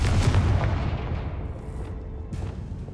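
A Confringo fire spell explodes in the video game Hogwarts Legacy, a loud, deep, rumbling blast that booms at once and then slowly fades away.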